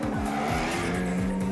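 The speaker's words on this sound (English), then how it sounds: "That's the fun of driving a Ferrari, to go through turns and very twisty and sharp corners where you can really use the physics of a fast race car." A Ferrari race car corners hard through a twisty autocross course, its engine droning loud and steady close by while the tires squeal and skid in repeated sweeping pulses.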